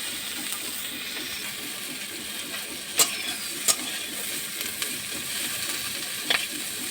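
Food frying in oil in a karahi until reddish-brown, a steady hiss of sizzling with a few sharp spatula clicks against the pan.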